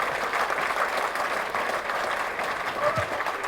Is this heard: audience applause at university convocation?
yes